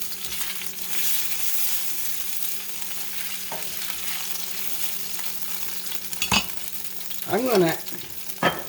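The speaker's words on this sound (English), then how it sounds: "Now I'm going to add a little bit more of the olive oil. We're going to need that to stir this around." Beef stroganoff frying in olive oil in a pan while being stirred, a steady sizzle with scraping stir strokes near the end and a brief spoken phrase over it.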